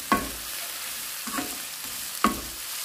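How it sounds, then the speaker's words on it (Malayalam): Bitter gourd sautéing in oil makes a soft, steady sizzle, punctuated by three distinct scraping stirs of a spatula against the pan, nearby and fairly quiet. "ഇതൊന്നിങ്ങനെ വഴറ്റി നമുക്ക് കയ്പ്പയ്ക്ക ഇട്ടെടുക്കാം."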